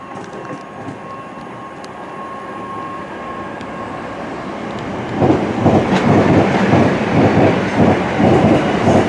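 A London train rolls along the rails at Upminster, a steady rumble that swells into loud rhythmic clickety-clack over the joints in the second half, with no talking.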